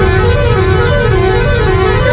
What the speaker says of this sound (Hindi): बजाते हैं हॉर्न।